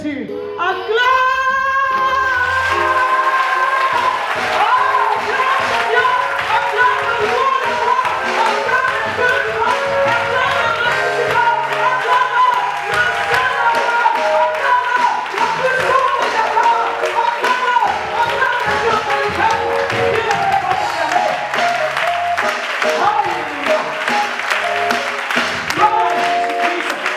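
A church congregation claps and cheers in praise during a worship service, the steady clapping running under loud, continuous music.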